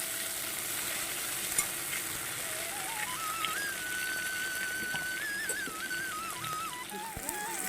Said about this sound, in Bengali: একটা পেঁয়াজ কাটা আছে একটা টমেটো আর চারটে লঙ্কা এটাকে একটু ভেজে নেব